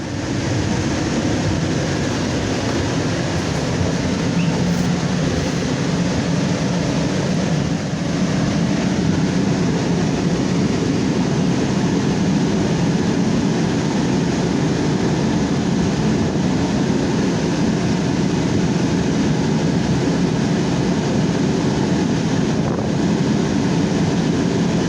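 Riding on a train, a continuous loud rumble and rattle of the carriage with wind-like roar, steady throughout with no voices.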